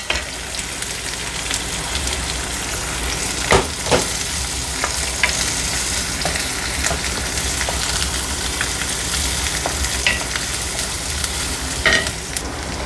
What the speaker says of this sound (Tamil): அதில் அடுத்தது நம்ம வெங்காயத்தை சேர்த்துக்கலாம்.